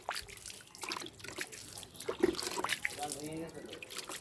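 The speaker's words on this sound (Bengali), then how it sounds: "গাছটিকেও কিন্তু এই ঠান্ডা জল দিয়ে গাছের পাতাগুলো কিন্তু আমি ভিজিয়ে দেবো" Cold water splashes and trickles over the leaves of a potted litchi plant on a rooftop garden, a soft continuous wash with dripping, heard under a person talking throughout.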